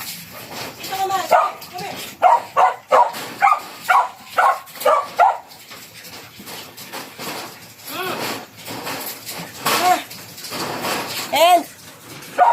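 Several dogs bark and yelp in quick bursts, with excited whimpers and whines between, at feeding time; someone talks over the commotion throughout.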